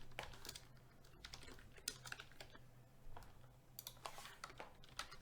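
Code being typed on a computer keyboard in a code editor: quick, irregular bursts of soft key clicks with short pauses between them, close and fairly quiet, with no talking.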